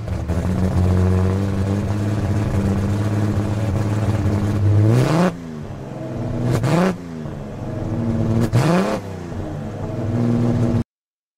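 A Toyota Land Cruiser FJ40V engine in the Gran Turismo video game idles with a steady rumble, then revs sharply three times, each rev rising and falling, before stopping abruptly.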